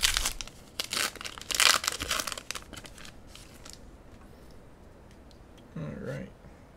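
Pokemon Shining Fates card packs are torn open, with loud crinkling and ripping foil bursts early on that then fade to quieter rustling, ending in a brief handling noise.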